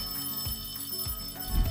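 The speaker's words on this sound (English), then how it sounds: "It's the class bell, and it means that it's time for recess." School class bell ringing to mark recess, a steady metallic electric ring with bright overtones, sounding continuously at close range with no voices.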